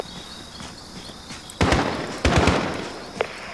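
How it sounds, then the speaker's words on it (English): Gunshots in the Call of Duty Modern Warfare campaign, a few sharp cracks with short reverberant tails and a fainter pop at the end, over a quiet hissing ambience. "Shot's fired."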